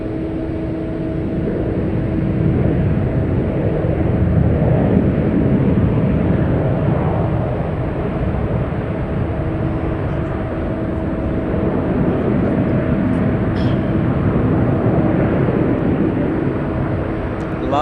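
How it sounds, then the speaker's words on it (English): A Boeing 787 Dreamliner airliner comes in to land at San Francisco, a loud continuous jet roar with steady engine whine holding for the whole stretch, close and dominant with no talk over it. "Gorgeous Dreamliner coming in to land."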